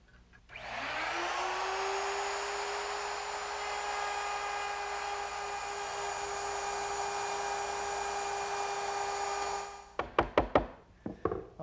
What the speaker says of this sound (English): I just used my overarm router, which is now equipped with a 1/4 inch round nose bit and this feather board